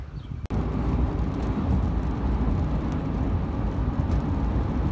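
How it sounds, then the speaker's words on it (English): A Honda NSX passes by, a loud, steady, broad roar of engine and road noise following a brief sharp knock at the start, with no voices. "First NSX in the wild."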